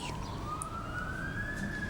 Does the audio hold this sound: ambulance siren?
yes